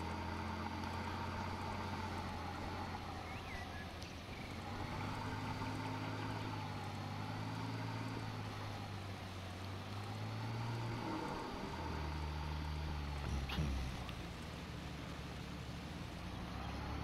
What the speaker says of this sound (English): Sorry, I can't hear you over the boat cruising by me.